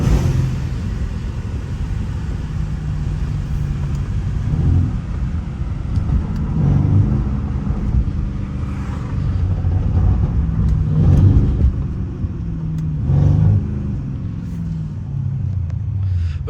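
A Mercedes C63 engine rumbles continuously as the car drives on a track, swelling and easing with the throttle, loud and close throughout.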